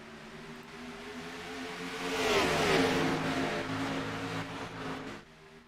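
Two Chevrolet Camaro race cars accelerating at a green flag start, engines droning and swelling to a peak as they pass, then fading, with no talk.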